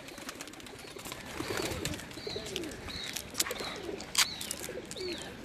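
Pigeons on a rooftop, a female among them, give soft repeated coos, moderately close, over a steady outdoor background with a brief sharp chirp near the end.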